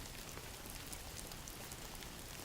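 Steady rain falls continuously, a soft, even patter of drops on surfaces, faint and unbroken throughout.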